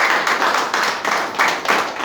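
An audience at a bilingual church service claps for Jesus, a steady, dense round of hand claps swelling in quick pulses, close and fairly loud, with no talking over it.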